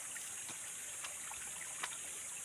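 A river on the trail to Gipit na Bato in eastern San Mateo, Rizal, flows in a steady, soft, broad rush, with a few faint splashy ticks and no talk.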